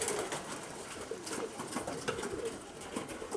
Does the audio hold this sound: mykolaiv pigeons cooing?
yes